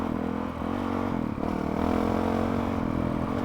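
A Honda CRF 450 RL off-road motorcycle engine runs steadily close by, a rough droning hum with a brief dip and light mechanical clatter, without anyone speaking.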